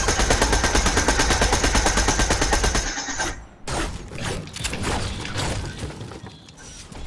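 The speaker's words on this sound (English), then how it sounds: "Someone's shooting at me." Gunfire in the Fortnite video game, a loud, sustained rapid burst of automatic shots lasting about three seconds, then a short lull and scattered, more distant shots with clattering game effects.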